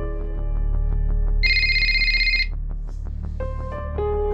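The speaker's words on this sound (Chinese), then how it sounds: "有个电话进来" An incoming call sets off a telephone's electronic melodic ringtone, a loud, close run of repeating bright tones that shifts in pitch partway through, with no talking.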